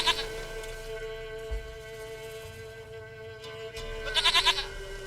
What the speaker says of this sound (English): 당신의 염소가 돌아왔어